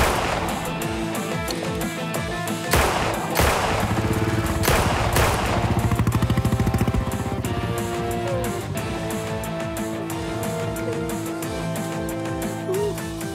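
Gunfire erupts after a shouted order to fire in a Hindi crime drama scene, sharp overlapping bursts of shots followed by sustained rapid automatic fire, loud and close, with no talk over it.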